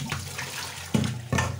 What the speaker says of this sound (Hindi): दो तीन पानी से अच्छी तरह से भुजिया को धो लेते हैं।